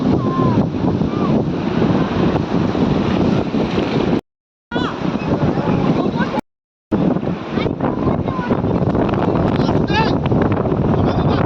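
Sea waves on Mandarmani beach rush and wash continuously, heavy wind buffeting the microphone over them, broken by two brief dropouts.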